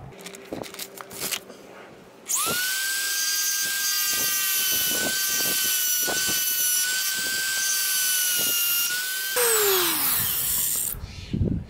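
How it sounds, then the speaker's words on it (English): Dremel rotary tool grinding down a nylon washer on a C5 Corvette seat track, with a steady high whine running for about seven seconds, then a brief harsher tone as it touches aluminum before spinning down. "I'm going to Dremel off the profile of the washer"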